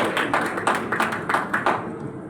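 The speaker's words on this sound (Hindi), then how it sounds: "तालियां, जोरदार तालियां" A crowd at a family values workshop in Chhattisgarh claps in a brief burst of applause, rhythmic hand claps fairly close and loud, then fading.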